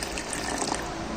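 Water pours steadily into a bowl, a continuous close, even splash and trickle with no talk.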